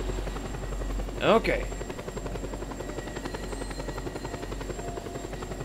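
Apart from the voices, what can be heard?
helicopter in the video game Just Cause 2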